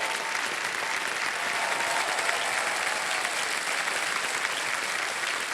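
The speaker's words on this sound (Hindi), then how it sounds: "तालियां बज जाए इनके लिए" Studio audience applauding on the Hindi quiz show Kaun Banega Crorepati, a steady, dense wash of clapping that holds evenly for several seconds without any talk.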